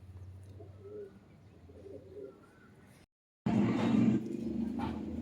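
A domestic pigeon coos softly in low, muffled phrases, followed by a short silence and then louder rustling and handling noise close by.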